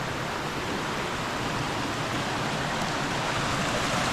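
Kitchen Creek in Ricketts Glen State Park rushing and flowing, a dense, steady hiss of water close by, constant and fairly loud with no talk.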